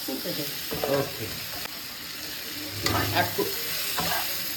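An egg frying in hot oil in a pan, giving a steady close sizzle with occasional stirring scrapes over a constant hiss.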